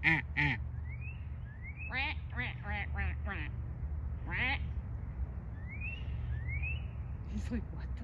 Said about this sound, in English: They don't look like ducks, but they kind of sound like ducks.